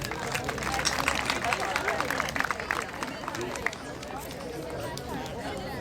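An audience applauds at a Turkish primary school graduation ceremony: a steady, dense wash of clapping from a crowd throughout, with chatter and voices mixed in.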